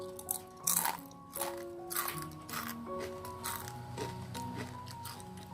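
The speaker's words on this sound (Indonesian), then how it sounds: "Terdengar kriuk-kriuk renyahnya ya pada saat dikunyah." Crunchy homemade peanut crackers (peyek kacang) chewed up close, a run of crisp, brittle crunches and snaps in an irregular rhythm, with no talking.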